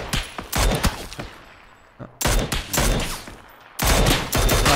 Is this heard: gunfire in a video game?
yes